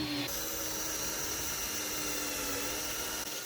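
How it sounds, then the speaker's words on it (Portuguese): A power saw cuts joints into wooden desk legs in a home garage, giving a steady, loud, high-pitched whine that holds for the whole few seconds without a break. "Passando a peça várias vezes na serra, eu consigo criar um encaixe legal de forma ágil e precisa."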